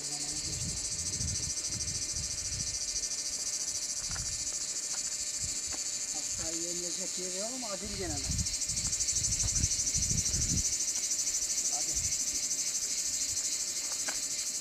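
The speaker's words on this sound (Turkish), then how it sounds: "Cızdır böceklerin sesini duyuyor mu?" Dense, unbroken shrill drone of cicadas fills the air, with occasional low thumps and a brief warbling call rising partway through.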